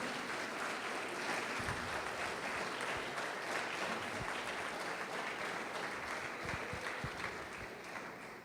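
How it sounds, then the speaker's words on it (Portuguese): Congregation in a Christian church service applauding in praise of Jesus, a steady wash of clapping heard at some distance, slowly easing toward the end, with no voices over it. "Pode aplaudir o Senhor Jesus e glorificar Deus"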